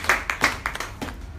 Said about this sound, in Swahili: Basi mpigie Bwana makofi makubwa kwa ajili yako.